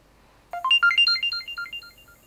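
A quick run of bright electronic tones from a Samsung Galaxy S25 Ultra connecting for data transfer chirps up and down, like a short melodic jingle, clear and close after a brief silence.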